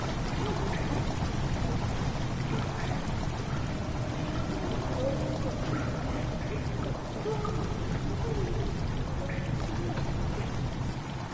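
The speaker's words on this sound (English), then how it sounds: "Chamber is slowly begun to fill with water." Water steadily pouring into a stone chamber in a video game, a continuous broadband rush of flowing, splashing water that stays loud and even throughout with no talk.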